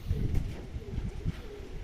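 Racing pigeons coo softly at the loft as they return from a 342 km race, low murmuring calls close by amid faint background noise and brief murmured voices.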